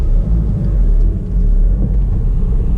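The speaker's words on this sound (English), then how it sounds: "I ran into the rev limiter there." A turbocharged TDI diesel engine on a dyno runs hard against its rev limiter, giving a loud, dense low rumble with slight stuttering pulses.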